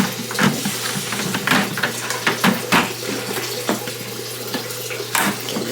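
Tap water runs from a spout into a homemade turtle tank filter, a steady splashing stream over a low hum, with intermittent knocks and handling clatter.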